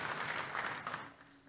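A church congregation applauds during a sermon, a brief burst of dense, steady clapping from many hands that thins out and fades toward the end.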